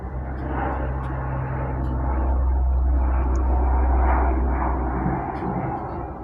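An airplane passes overhead with a loud, sustained engine roar that swells and holds near its peak before slowly fading, heard outdoors with no talking.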